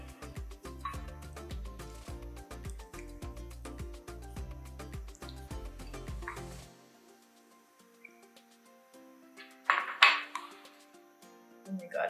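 Kimchi brine being mixed into ingredients in a bowl, heard as a close run of quick rhythmic clinks and taps of a utensil against the bowl that stops abruptly, followed by a few scattered louder knocks and scrapes.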